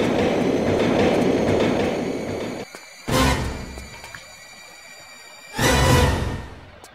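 A subway train rumbles steadily in Tomb Raider 3, a dense loud roar that drops off abruptly, then two sharp surging whooshes return with quieter rumble between them.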